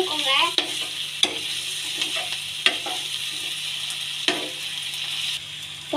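Vegetables fry in a pan for chilli chapati while a utensil stirs and mixes them, a bright steady sizzle broken by several sharp scraping clacks against the pan, close and loud.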